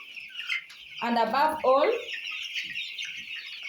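Broiler chickens at about two weeks old cluck and call on a farm, a steady chorus of bird calls filling the background while someone speaks briefly over them in the middle.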